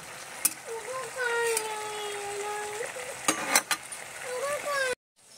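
Paneer frying in a home kitchen pan, a soft steady sizzle with occasional splatters and stirring clinks, while someone talks over it.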